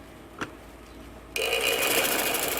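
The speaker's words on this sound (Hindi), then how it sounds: "डबल सिलाई लगाते हुए सिलाई लगा दूँगी।" A sewing machine runs steadily while stitching the seam of a gents' shalwar, starting after a brief tap and a second of quiet, then whirring loud and continuous to the end.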